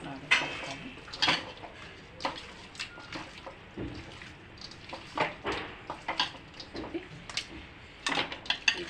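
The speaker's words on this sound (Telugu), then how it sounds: "ఇవి బాగా కలపాలి. అంతా బాగా కలిసే విధంగా బాగా కలపాలి." Chicken pickle stirred in a pan, with a metal spoon scraping and clinking against the pan in an irregular rhythm of sharp knocks, close and moderately loud with no talking.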